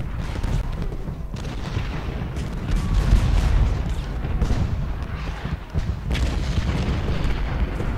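Battlefield in the Civil War strategy game Ultimate General Gettysburg, with a steady rumbling din of distant artillery booms and scattered gunfire rolling on continuously without speech.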